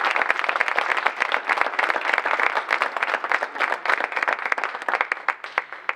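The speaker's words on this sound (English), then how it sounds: "Please, one more round of applause for my students." An audience claps enthusiastically for students after tribute speeches, dense steady applause from many hands that carries on throughout and tapers slightly at the end.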